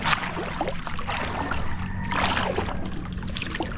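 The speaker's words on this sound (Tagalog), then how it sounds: "Ayan po yung bangka natin." A small wooden boat moves through river water on a crab-trapping outing, giving a steady wash of splashing and rushing water with occasional knocks, fairly faint and continuous.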